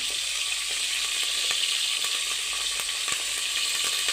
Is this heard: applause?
no